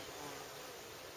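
Wasps buzz steadily around beehive supers, a continuous faint drone heard up close for about a second.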